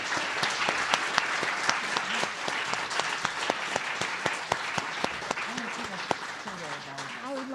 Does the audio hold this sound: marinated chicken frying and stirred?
no